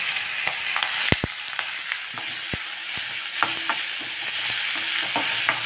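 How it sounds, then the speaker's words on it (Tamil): Large onions frying with cumin seeds in a pan for hotel-style jeera rice: a steady close sizzle runs throughout, broken by sharp clicks and scrapes of a spoon stirring, with no voices. "வெங்காயம் நல்லா கோல்டன் கலரில் ஃப்ரை ஆகணும்"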